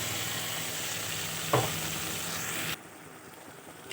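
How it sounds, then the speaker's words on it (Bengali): Ground cumin, coriander, dried chilli and Kashmiri red chilli powder fry in oil for spicy chicken kosha, a dense close sizzle with a stirring clatter midway, then dropping abruptly to a quieter hiss. "এখন ভালো করে কষাতে হবে যত পর্যন্ত না তেল ছেড়েবে তত পর্যন্ত কষাতে হবে মশলাটাকে"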